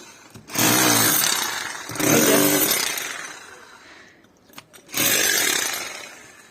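Handheld power tool or machine grinding into a house wall during home renovation, loud and close, running in three long bursts with a short pause between each, straining under pressure.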